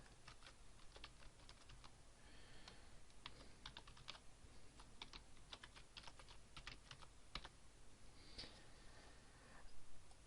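Keys clatter in quick irregular bursts as an email address is typed on a computer keyboard during a free WordPress site setup, faint and close with brief pauses between runs of keystrokes.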